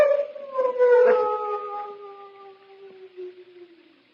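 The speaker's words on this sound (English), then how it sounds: "What was that? Only the dogs, monsieur." Large dogs at a chateau howl in a long, drawn-out, descending wail, fairly close and alone, fading gradually over about four seconds.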